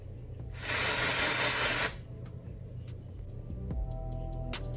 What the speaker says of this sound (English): And I spray this.